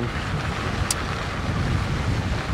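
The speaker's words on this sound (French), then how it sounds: "Donc là c'est vraiment qu'il y a beaucoup de vent." Strong wind roars and buffets the microphone over a steady wash of choppy lake water and waves.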